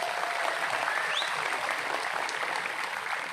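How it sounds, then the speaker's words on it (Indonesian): Audience at an Islamic religious gathering (tablig akbar) applauding in praise of pesantren boarding schools, steady dense clapping from a large crowd throughout. "Tepuk tangan untuk pesantren."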